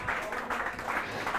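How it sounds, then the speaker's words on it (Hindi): Students clapping together in a classroom during a physics lecture, a short steady burst of applause heard briefly and without speech. "बहुत बहुत ताली बजाइए इसके लिए"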